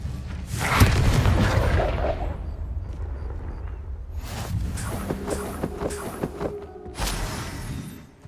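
The Confringo fire spell blasts in Hogwarts Legacy, giving several deep booming bursts spaced a few seconds apart, each fading into a rumbling tail.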